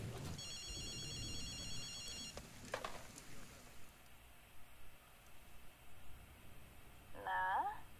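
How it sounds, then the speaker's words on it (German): An old-style telephone rings from a street phone booth in Ghostwire Tokyo, a few clear electronic ring bursts in the first seconds over low ambient noise, then fading into quiet game ambience. "Das Telefon klingelt, höre ich gerade. Tö. Das kommt aus der Telefonzelle."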